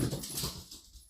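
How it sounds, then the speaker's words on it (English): A dog whimpers and yelps in short, agitated bursts close by, fading toward the end. "That was my dog going a bit mental."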